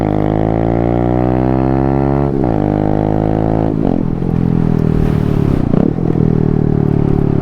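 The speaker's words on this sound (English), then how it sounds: "But listen to this exhaust versus my two brothers." A Honda Grom-style motorcycle exhaust idles and revs up close, a loud, steady engine drone with a couple of throttle blips that rise and settle back.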